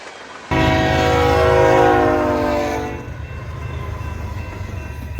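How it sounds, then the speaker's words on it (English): An eastbound freight train passes a grade crossing, its horn blaring loud and close for a couple of seconds before cutting off, leaving a steady rumbling roar of the passing cars. "I hear a horn for an eastbound"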